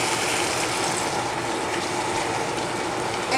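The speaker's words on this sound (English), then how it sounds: "Add a bit of water." Water poured into a pan of curry, a steady broadband rush that runs unbroken and fairly loud throughout, with no voices.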